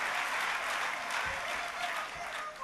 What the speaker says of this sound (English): that Marco cheer always worries me